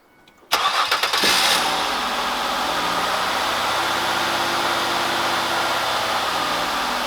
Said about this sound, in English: we're going to go ahead and start it, and we're going to let the car warm up